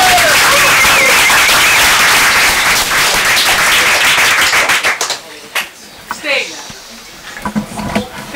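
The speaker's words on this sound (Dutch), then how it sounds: "Mag ik dan een daverend applaus voor Jefta?" Loud audience applause fills a poetry club performance at de Schouw in Rotterdam, dense clapping and crowd noise sustained for about five seconds before breaking off into scattered claps and quiet murmurs.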